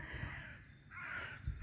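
Crows caw repeatedly beside a small lake in rural surroundings, harsh calls carrying at moderate distance with a steady outdoor background and no talking.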